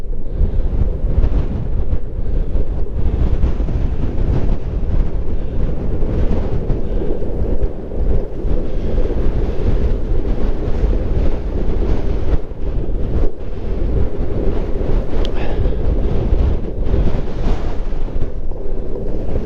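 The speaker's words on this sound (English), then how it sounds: "Got a real strong headwind." Strong headwind roars across the microphone during an uphill Ownboard electric skateboard ride at about 8 miles an hour, a constant heavy low buffeting rumble that fills the whole stretch without speech.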